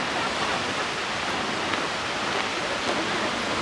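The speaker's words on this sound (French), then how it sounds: "je vous montre la cascade" Waterfall in Iceland with wind, a constant broadband roar of falling water that stays steady and fairly loud throughout, with no speech.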